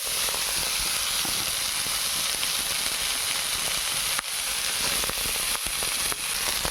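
Spices and potato sizzle loudly in a hot pan, a steady, bright frying hiss with faint crackles that carries on without a break.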